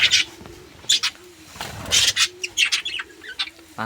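Pigeons perched together coo in a soft, repeated low murmur, several rounded calls spread across the stretch, with chirps from sparrows and a brief flutter of wings mixed in nearby.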